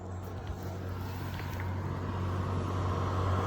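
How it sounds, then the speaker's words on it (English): A car approaches on a road near an Appalachian Trail outpost, its low engine and tyre rumble holding steady and slowly growing louder as it nears, with no talking. "It's a car coming anyway."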